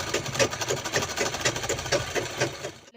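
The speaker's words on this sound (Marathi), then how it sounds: "आता दुसऱ्या बाजूने सुद्धा आपल्याला हँडलला शिलाई लावून घ्यायचं आहे" Domestic sewing machine stitching along the handle of a fabric lunch bag made from leftover dress cloth, a steady rapid mechanical whirr with regular needle ticks, close and continuous for about three seconds before stopping.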